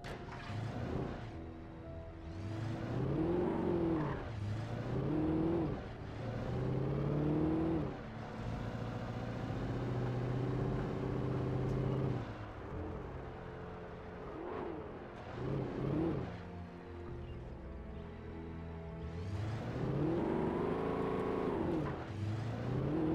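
Car engine in the video game Alan Wake, droning and repeatedly revving up and easing off as the vehicle drives, loud and continuous throughout with no talking.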